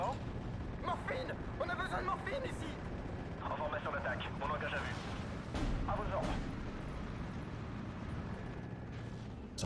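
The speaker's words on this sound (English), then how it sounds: "It's arty everywhere." Artillery barrages rumble through a Steel Division: Normandy 44 battle on Omaha, with repeated booms and crackling impacts forming a dense, continuous wash of war noise while someone talks over it.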